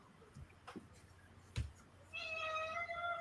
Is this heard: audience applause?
no